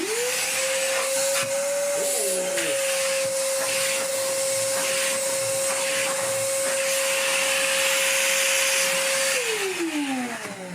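A Sealey 20V cordless vacuum cleaner spins up and runs with a steady, loud whine and airy rush, its pitch wavering briefly early on, then holds until it winds down at the end.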